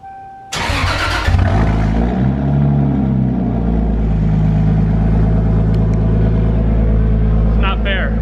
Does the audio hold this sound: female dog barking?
no